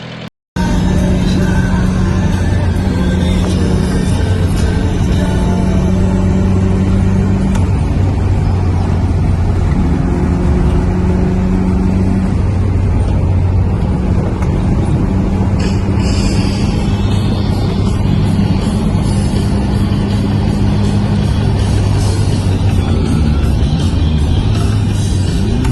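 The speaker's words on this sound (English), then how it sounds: "I was revving up as I was braking." The 1300 engine of an Austin Allegro Estate runs after ignition timing work, its steady drone rising and falling in pitch as it is revved, loud and close throughout.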